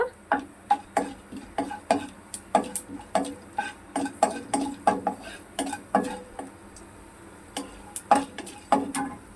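Chana dal and tempering spices frying in a pan, heard as a steady run of sharp metallic clinks and scrapes from stirring against the pan, repeating about every half second, close and fairly loud with no talk.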